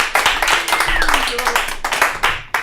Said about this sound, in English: Give a round of applause for Scott Schwartz.